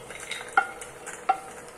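Roasted peanuts being stirred and scooped out of an oily frying pan while making poha, with a soft continuous scrape and light sizzle and two sharper clinks of the spoon against the pan.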